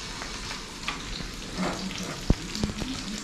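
Tuyo dried fish and sautéed tomatoes fry for breakfast in a pan, giving a soft, steady sizzle with scattered small pops and utensil clicks close by.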